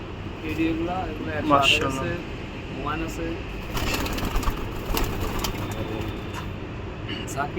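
Teddy pigeons, including an Oman Teddy, in a loft with soft low cooing and faint fluttering under steady nearby conversation and a constant background hum.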